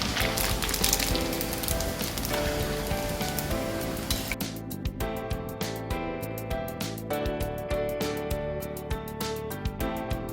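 Noodles crisp up in hot frying oil for Chinese bhel, giving a dense, steady sizzle that later breaks into rapid crackling pops, close and fairly loud with no talking.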